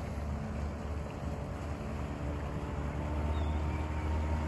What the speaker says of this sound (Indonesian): Ini ada kapal yang mau pulang.